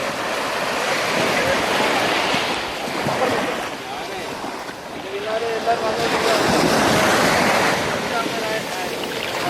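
Waves wash onto Thinnakara beach in the Lakshadweep lagoon, a loud continuous surf that swells and recedes with wind buffeting the microphone.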